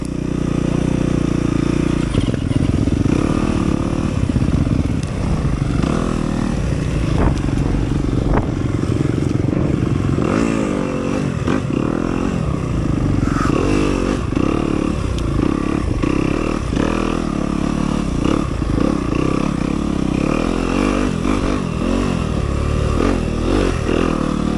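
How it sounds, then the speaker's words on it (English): An enduro dirt bike engine runs loud and close on a wooded race trail at a sprint enduro in Clanton, Alabama, revving and shifting continuously with clattering and scraping over the terrain. "Don Ainsworth trying to get his bike started, so I'm going to see if I can follow McLean through the trail he's making"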